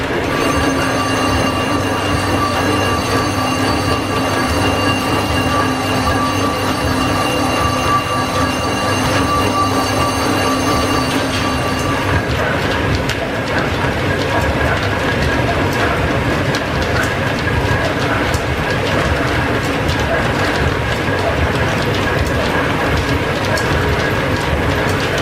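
Old steam-powered machine shop lathe cutting a governor pulley under hand feed, a loud continuous mechanical whir with high steady whining tones and a dense clatter of belts and gears. The whine drops away partway through while the rumble continues.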